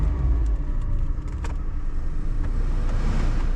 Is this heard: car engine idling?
yes